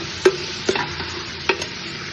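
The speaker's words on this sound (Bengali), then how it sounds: "ভেজে নেব পেঁয়াজ দিয়ে।" Goat meat and chopped onions frying in a pot, a low steady sizzle broken by three or four scraping stirs of a spoon against the metal, close and moderately loud.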